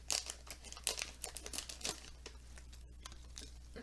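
Scissors cut open a crinkly bag of spicy tube-shaped Japanese snacks, giving a close run of sharp crinkling and tearing bursts over several seconds against a quiet background.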